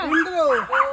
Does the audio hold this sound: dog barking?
yes